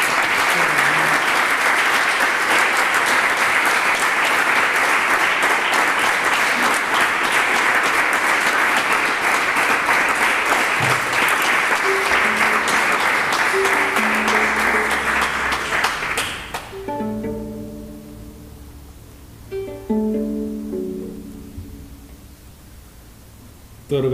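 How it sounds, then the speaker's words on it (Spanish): Dense, loud applause from a concert audience fills about sixteen seconds, then breaks off as instruments begin playing and a voice speaks over them. "Por favor, un aplauso a la maravillosa..."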